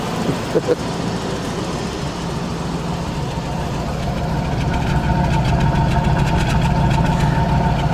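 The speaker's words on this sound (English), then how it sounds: "she runs sweet. No tick in the engine or nothing." A 1973 Chevy Nova's engine idles close by with a steady low rumble and smooth, even running, no ticking, while someone talks over it.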